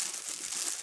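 Packaging for Derbi E3 scooter engine parts crinkles and rustles as it is unwrapped, a brief, close, steady crackle with no talk.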